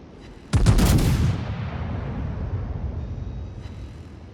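Secondary guns on the battleship Georgia in World of Warships fire in a sudden loud burst of several quick blasts, followed by a long rumbling decay.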